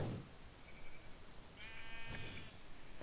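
Sheep bleat in a video game match, a short call early and a longer harmonic bleat in the back half, fairly faint against steady game background noise.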